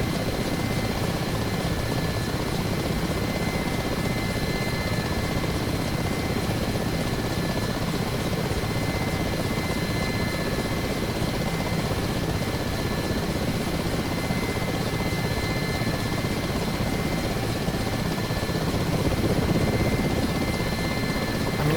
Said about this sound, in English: that could just be your rotor sound that you're hearing